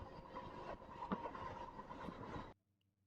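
A MEMU passenger train runs on the tracks near Pagidipalli station between Warangal and Secunderabad, giving a steady, close rumble with rhythmic wheel clacks that cuts off abruptly near the end.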